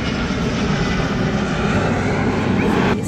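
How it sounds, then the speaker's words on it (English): A fixed-wing airplane passes overhead above a park, its broad engine roar steady and loud throughout, filling the whole stretch with no pause. "look, an airplane."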